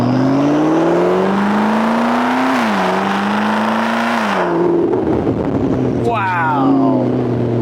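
A McLaren sports car engine revs up through the gears, loud and close from inside the cabin, with rising tones that drop at each shift, then a lower hum as it slows and picks up again.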